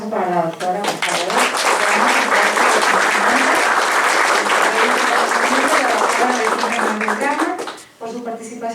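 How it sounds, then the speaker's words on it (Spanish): Strong, dense clapping from an audience at a departmental seminar rolls on for several seconds, then fades out as a voice resumes speaking. "un aplauso para la doctora, por favor"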